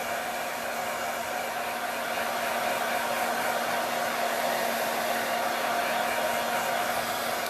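A hair dryer blows steadily and loudly without a break, drying a craft project, a constant close-up whoosh with nothing else heard.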